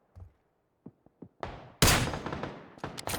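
Gunshots in an action video game: scattered faint clicks and pops, then a loud sharp blast followed by a rattling burst of shots and a few more cracks near the end, with no speech.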